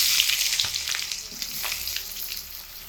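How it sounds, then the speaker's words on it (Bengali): Whole bay leaves and whole cumin seeds tempering in hot oil, a bright continuous sizzle with light crackles and a few stirring touches, close and fairly loud. "গরম তেলের মধ্যে গোটা তেজপাতা আর গোটা জিরে ফোড়ন দিয়ে দিচ্ছি।"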